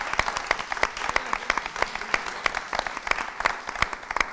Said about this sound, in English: Clap it up for Alpha Prosperity Financial